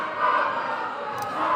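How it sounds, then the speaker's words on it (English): A crowd cheers for the Belgian teams at the Western European dodgeball championships, a steady, fairly loud roar of voices that swells slightly and holds for the whole moment. "A big cheer for the Belgian teams."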